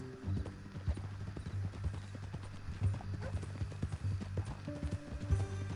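Steady hooves clip-clop at an even walking pace, with a low mechanical hum underneath and no voices.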